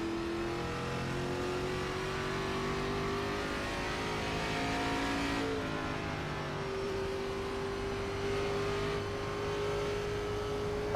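Simulated ARCA race car engine from iRacing on the Indianapolis oval, a steady sustained drone with a slight pitch dip midway, continuous and fairly close throughout with no talking.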